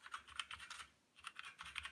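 Quiet clicky typing on a Drevo Calibur RGB mechanical keyboard with black switches, in two quick flurries of keystrokes separated by a brief pause.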